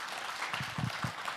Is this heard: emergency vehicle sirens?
no